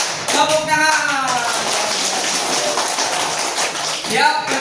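A classroom of students breaks into a sustained round of applause, a dense wash of many hands clapping, with a voice speaking just before and after.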